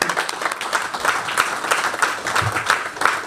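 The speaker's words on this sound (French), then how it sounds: "Applaudissons pour l'excellence." An audience applauds at a ministerial visit event in Brussels, steady dense clapping from a moderate-sized crowd, even and sustained with no talking over it.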